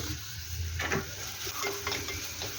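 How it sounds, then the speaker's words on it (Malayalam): Onions fry in a pan for a tuna curry, giving a steady close sizzle with a few soft stirs and scrapes of a spoon against the pan. "സവാളയെ നന്നായിട്ടൊന്ന് ഫ്രൈ ആയി കിട്ടണം നല്ല ബ്രൗൺ കളറാകുന്നത് വരെ ഒന്ന് മൂപ്പിക്കുക"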